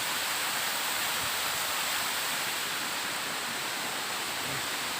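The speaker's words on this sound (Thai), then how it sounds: "น้ำตกแม่เวยครับนี่นะครับสวยเลยทีเดียว" Mae Wei (Mae Po Khi) waterfall in Thailand, a steady broadband rush of falling water, constant and moderately distant with no voices.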